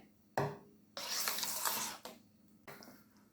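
A wooden spoon stirs Jamaican-style breadfruit punch in bursts, with three or four close scraping, swishing strokes separated by short pauses.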